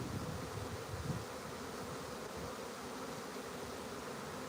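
Honey bees in a live swarm on a farm, a steady dense buzzing drone filling the whole stretch, close and continuous with no voices.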